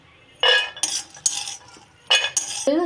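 Roasted peanuts tipped and scraped from a pan into a bowl, giving several loud bursts of rattling, clinking metal-on-dish scrapes separated by short pauses, close up with no talk.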